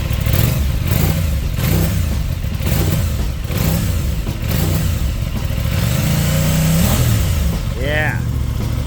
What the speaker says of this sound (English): With a stock exhaust though, it doesn't sound bad at all.